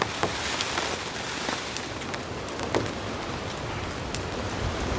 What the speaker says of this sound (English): Just the amount of wind and rain, it was relentless the entire time.